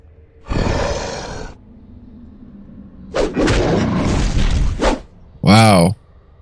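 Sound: explosion in the video game Geneforge

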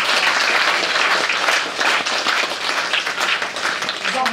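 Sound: audience applause

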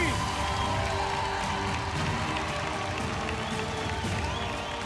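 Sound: audience applause and cheering on a TV talent show

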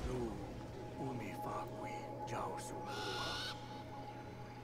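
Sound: owl hooting in video game Far Cry Primal

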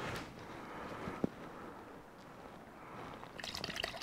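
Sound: paint being poured from a can

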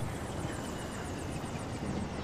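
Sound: helicopter in Far Cry 4 video game

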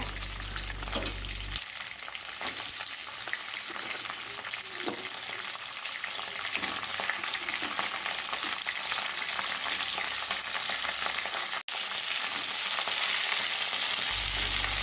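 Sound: crab frying and sautéing in oil

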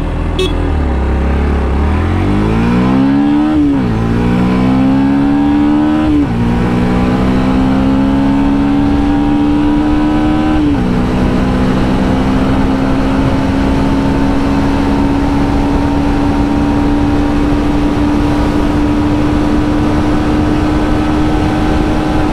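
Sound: Yamaha FZX 150 motorcycle accelerating on open road

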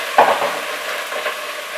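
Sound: prawn heads and shells frying in oil in a pan

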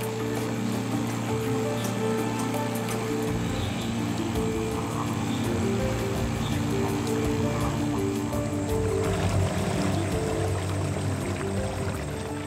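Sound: boat outboard motor on a river

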